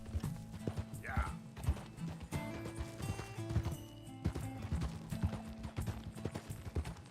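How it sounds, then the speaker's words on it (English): Steady clip-clop of horse hooves from Red Dead Redemption 2, rhythmic and fairly close, mixed with game music and mechanical clatter, with a brief whinny near the start and voices talking over it. "Ой, лошадь застряла"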